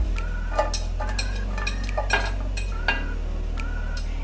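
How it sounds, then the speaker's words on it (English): Diced onion goes into hot olive oil in a pot for chicken soup, giving a soft steady sizzle with a few scattered clinks and scrapes of a utensil against the pot, close and alone. "Now we're going to go ahead and add in our onion"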